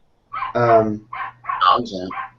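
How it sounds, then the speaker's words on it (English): Dogs barking outside in a quick burst of several yips and barks, fairly close and loud. "my dogs are going crazy outside"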